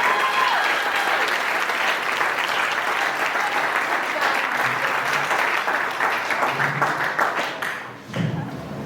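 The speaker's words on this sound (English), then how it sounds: "Everybody give a round of applause for Chloe." An audience at a golf fundraiser applauds for Chloe, loud continuous clapping with scattered sharper claps, fading toward the end before a brief thump and a final burst.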